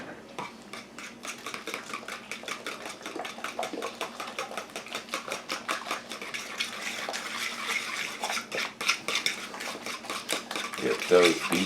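A fork beats eggs into banana bread batter in a bowl, making fast, steady metallic taps and scrapes against the side in a quick repeating rhythm that grows louder and busier near the end, heard close up.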